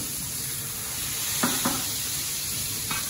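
Minced meat for a burger patty fries in a pan with a steady, close hiss and sizzle, broken by a few brief clacks and scrapes from stirring or turning. No one speaks.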